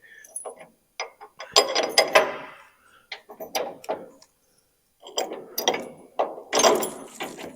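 A ratchet wrench drives bolts on a 1965 Mustang steering plate, heard as close bursts of rapid metallic clicking separated by short pauses, with one longer gap midway.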